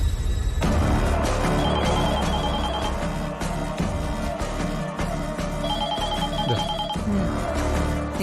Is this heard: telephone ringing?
yes